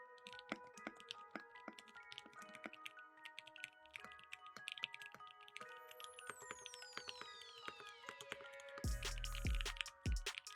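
Typing on a computer keyboard fitted with custom keycaps: dense, quick, fairly quiet clacking keystrokes throughout. Near the end a louder low rumble rises briefly under the typing.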